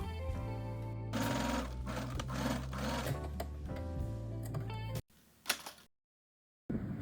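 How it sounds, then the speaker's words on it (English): A sewing machine stitches qipao lining pieces together in a steady close whir for about five seconds, then stops with a few clicks and handling noises before a moment of silence. "Then, sew the lining pieces together."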